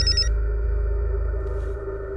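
An indoor telephone rings with a steady electronic tone, loud and continuous for about two seconds, no voices.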